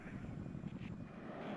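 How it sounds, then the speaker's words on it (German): Helicopter flying in the WARNO war strategy video game, a faint, steady rotor and engine drone sitting low and distant throughout. "Ach, das war unser Hubschrauber, den ich da höre."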